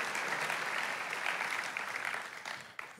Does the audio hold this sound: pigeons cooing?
no